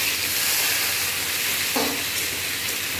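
Onion drops into hot oil spiced with garlic paste, garam masala and dried chili, giving a loud, steady, close sizzling hiss with a brief burst as it lands, no voices.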